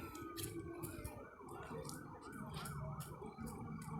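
Wailing sirens rise and fall continuously, with repeated pulsing tones over a busy low background of traffic noise.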